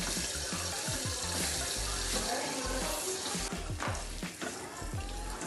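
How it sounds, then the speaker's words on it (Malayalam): Grated coconut dry-roasts in a pan with turmeric powder and fennel seeds for a Kerala-style chicken curry, making a continuous close, scratchy rustle with small crackles as it is stirred. "പൊരിയണത്ര തേങ്ങ നന്നായി വറുക്കുന്നു"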